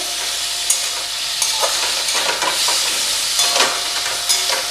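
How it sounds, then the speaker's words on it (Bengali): Masala for a rohu fish curry with potato and cauliflower fries over a medium flame with a splash of water. It sizzles loudly and continuously while a spatula scrapes and knocks in the pan now and then, with no voices. "সামান্য একটু জল দেব, দিয়ে আবার কষাবো একটুখানি"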